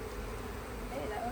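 Honeybees buzzing around an open hive during an inspection, a dense, close, continuous hum filling the short moment.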